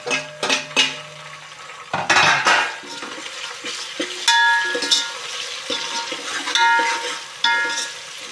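Tomatoes go into a pan for chicken biryani, followed by a steady run of stirring: a spoon scrapes and clatters against the metal pan in repeated strokes, with some faint sizzling underneath, loud and close, no talk.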